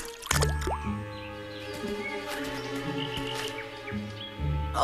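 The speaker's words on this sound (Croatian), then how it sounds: "samo sam istresao vodu iz ušiju" Squishy dripping water sounds, as water is shaken out of a cartoon character's ears, with a few splashy plops, set against a busy cartoon-style musical background.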